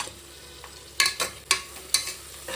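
Onion and green chillies sautéing in a pan, heard as a quiet steady sizzle broken by a few sharp stirring scrapes and clatters spaced about half a second apart.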